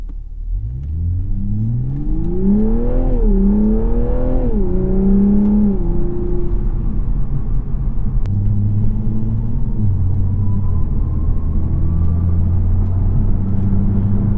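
A 2021 Toyota Supra 3.0 engine revs up through the gears, then settles into a steady loud road rumble on a concrete highway section, with constant tire and wind noise.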